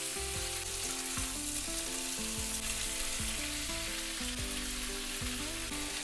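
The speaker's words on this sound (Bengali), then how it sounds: "সবজিগুলো দিয়ে ভালো করে নাড়াচাড়া করে দিতে হবে যাতে তেলগুলো সবজি গায়ে লেগে যায়।" Broad beans and potatoes stir-fry in oil after onions, with a steady sizzle and repeated scraping stirs from a spatula in the pan. The sound is faint, close and continuous, and no one speaks.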